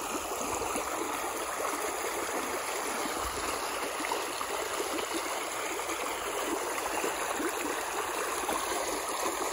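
Steady rushing irrigation water flows continuously through a field channel at night, a broad even wash of sound like a stream running through an open channel, with no voices.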